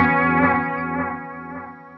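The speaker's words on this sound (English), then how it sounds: "Tape echo." A sustained note runs through the tape echo delay effect of a Zoom MultiStomp MS-70CDR multi-effect pedal. Repeats smear into a rich, chorused tail that slowly fades, with no voice over it.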